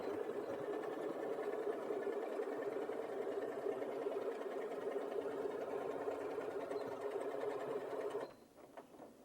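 A Janome 8200QCP sewing machine runs a fast, continuous stitching whir for about eight seconds, steady and close, then stops abruptly, leaving a few faint clicks and handling sounds.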